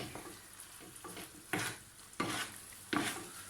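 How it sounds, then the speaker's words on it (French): Tomato sauce with fresh basil being stirred in a pan, a spoon scraping through it in three sharp strokes over a low, steady sizzle. "Donc là, elle va mélanger."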